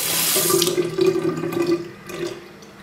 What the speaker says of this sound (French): si on fait couler de l'eau